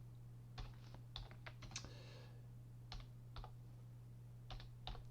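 Someone types HTML code on a computer keyboard: quiet, irregular clusters of key clicks, close and alone over a steady low hum, with short pauses between the bursts.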